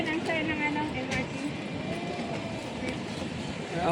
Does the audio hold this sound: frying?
no